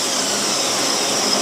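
An Erickson ProForm 850 model engine running rich after start-up, a steady loud roaring whine with broadband hiss throughout, no pauses or talk.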